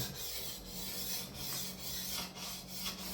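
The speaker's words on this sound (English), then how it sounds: "And what I'm going to do is I'm going to hone the bevel side." A diamond hone rubs along the bevel side of a large paper machine knife, steady rasping strokes repeating about every half second, close and faint over a low background hum.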